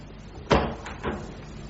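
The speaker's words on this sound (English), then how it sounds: "Rex, shut the door, will you?" An indoor door is pushed shut with one solid thud, followed by a softer second knock as it settles into the frame, fairly close, with no talk over it.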